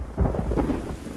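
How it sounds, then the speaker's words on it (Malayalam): A short, deep rumble of thunder with rain at night, heavy and close for about a second. "നല്ല ഇടിയും മഴയുള്ള ഒരു രാത്രി"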